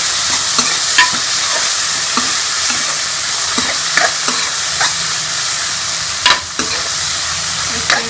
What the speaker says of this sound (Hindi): ये टमाटर और ये हरी मिर्ची भी डाल देंगे इसके अंदर। इसको भी हम मिक्स कर लेंगे।